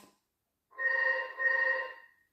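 A telephone rings twice in quick succession with bright, steady electronic trills, fairly close and clear, with no talking over it.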